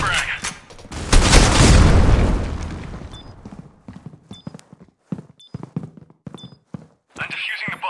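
A frag grenade detonates in a competitive bomb-defusal shooter match, giving one heavy, loud boom that rolls off over about two seconds. Sparse clicks, footsteps and short electronic beeps follow.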